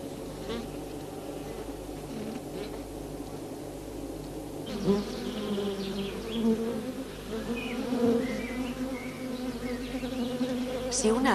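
Honeybees buzz inside a beehive, a dense continuous droning hum from many insects that swells louder partway through, close and with no talk.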